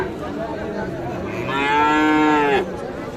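A Sahiwal bull lowers out one long, drawn moo over the constant murmur of a busy livestock market, fairly close and clear.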